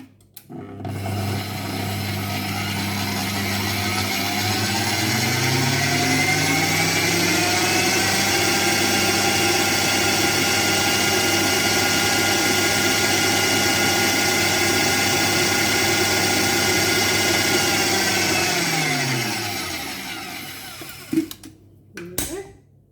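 Electric mixer whirring steadily through chocolate cake batter, a loud continuous motor hum that spins up at the start, holds for nearly twenty seconds and winds down to a stop.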